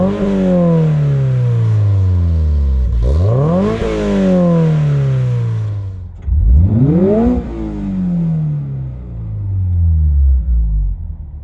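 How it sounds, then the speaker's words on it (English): Toyota GR86 engine with a GR catback exhaust revving hard alone, rising in pitch through three loud blips, each climbing and falling back to a deep idle rumble. "This also has the GR exhaust for the catback system. So if you haven't already heard it rev, I'll probably show that here."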